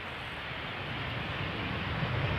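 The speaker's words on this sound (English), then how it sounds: "This is a 737-700 from KLM arriving from Madrid" A KLM Boeing 737-700 arriving from Madrid lands at Amsterdam Schiphol, heard as a steady, broad engine roar that holds constant and fairly loud from start to finish.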